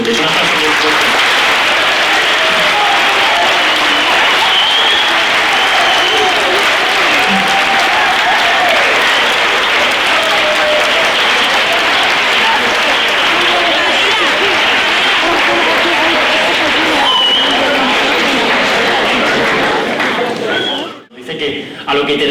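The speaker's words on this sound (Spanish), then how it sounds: "Un aplauso muy fuerte." Loud, sustained applause from a hall full of adolescent students at a school conference in Ciudad Rodrigo, dense clapping rolling on for about twenty seconds with a few voices mixed in before cutting off abruptly.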